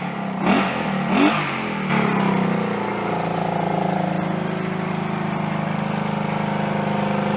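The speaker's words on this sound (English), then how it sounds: "There's my little Honda CD175 finally running, and on 2 cylinders as well." A Honda CD175 motorcycle engine runs on both cylinders: a few quick revs with rising blips at the start, then a steady, even idle drone that carries on close and loud.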